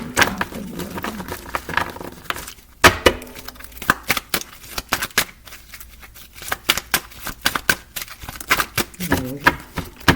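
Tarot cards are shuffled for a reading, giving repeated crisp riffling and slapping bursts at close range, with brief gaps between handfuls and a voice speaking faintly in the background.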